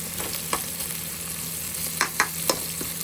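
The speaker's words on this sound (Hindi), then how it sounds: "ये प्याज और मसाले" Onion, ginger, garlic, green chilli and cumin seeds fry in a pot with a soft, steady sizzle close by, while a few light scraping stirs knock against the pan.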